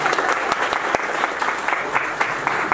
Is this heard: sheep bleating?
no